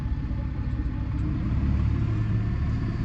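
A tractor engine driving a hedge cutter rotor runs steadily with a heavy low rumble, a machine droning close by without pauses or voices.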